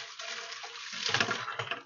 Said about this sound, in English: take the potato out of the heat, strain out all the water.